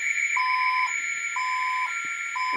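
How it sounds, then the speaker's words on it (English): Ademco VISTA alarm panel arming countdown: a steady series of short electronic beeps about every half second over a constant high tone, loud and close, with no talking. "you'll see immediately that the alarm system is now going into its countdown and starting to arm"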